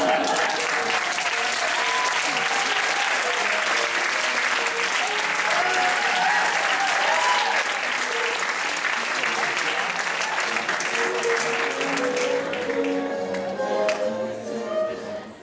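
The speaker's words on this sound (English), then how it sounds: "Please, one more round of applause." Loud, sustained audience applause fills the whole stretch, dense and steady from a large crowd with cheering voices mixed in, tapering slightly near the end.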